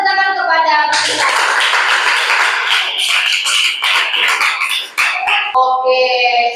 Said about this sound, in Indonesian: berikan tepuk tangan kepada kita.